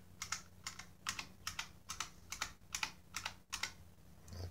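Keys clack on an IBM Model M keyboard fitted with a bolt modification, a close run of about a dozen crisp, evenly spaced buckling-spring strokes with no talk.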